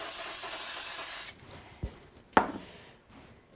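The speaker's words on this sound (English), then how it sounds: "spray a little of the spray glue on the back of the white one." Spray glue hisses from an aerosol can in a sustained burst that stops abruptly, followed by quiet handling sounds, a sharp tap and a couple of brief soft sprays, close and fairly quiet.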